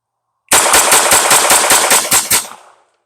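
Grand Power K22 MK12 pistol firing Remington Golden Bullets .22LR: a quick string of about nine sharp, loud shots at an even, rapid pace, each crack ringing briefly before the next.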